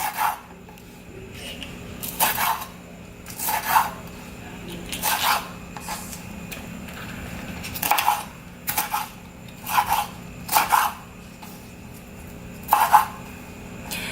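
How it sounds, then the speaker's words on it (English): A knife slicing very large scallions lengthwise on a cutting board while making Vietnamese caramelized prawns, giving a series of short, rasping strokes in irregular bursts at close range, with no talking. "So next we're going to cut our scallions. These are really big scallions,"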